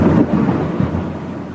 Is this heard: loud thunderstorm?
yes